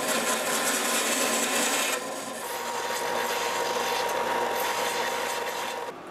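Close, steady rasping of a saw cutting a small fishing-lure fin lug to length, a continuous gritty back-and-forth scrape that shifts slightly in tone partway through and runs without talk.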